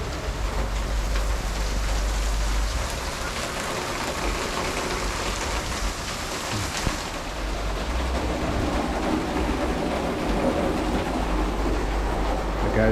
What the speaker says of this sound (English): It's the start of the rain for this storm.